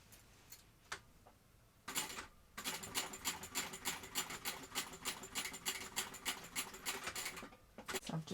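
Sewing machine stitching two rows along a backpack strap, a rapid even clatter that starts after a few light taps and runs steadily for several seconds before a brief pause and restart, close and fairly quiet.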